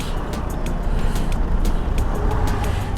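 A Vespa VXL 150 scooter cruising at about 60 gives a steady engine drone mixed with road and wind rumble, heard continuously from the rider's position.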